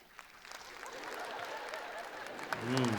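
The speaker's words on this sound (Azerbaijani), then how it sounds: "İndi mən deyim, siz də alqışlayın." Concert audience applauding at a wedding-themed comedy show, a continuous wash of clapping that swells toward the end, with a voice rising over it near the close.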